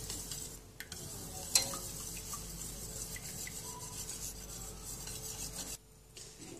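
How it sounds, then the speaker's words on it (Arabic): A spoon stirs and scrapes a cream mixture in a pot, giving close, quiet, continuous rasping strokes with a few sharper knocks against the pot. "تنحركوا الخليط حتى كيتجمع"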